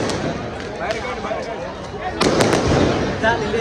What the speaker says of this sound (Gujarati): પછી કાર્યક્રમ પત્યા બાદ બધા ફોડ્યા ફટાકડા.